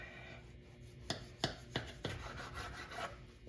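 A knife cutting through rising bread dough on a board in a homestead kitchen, several soft distinct thuds and scrapes spaced a fraction of a second apart.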